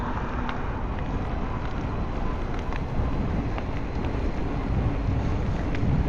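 Steady wind buffets the microphone while riding a bike along the Walter Bean Trail on a cool, windy 15-degree day, a constant low rumble with faint rustling throughout and no talking.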